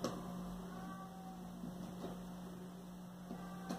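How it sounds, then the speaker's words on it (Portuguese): A cat meows at a door indoors, faint and brief, over a steady electrical hum and low room noise. "Você ouviu um gato miando, é o Ozzy"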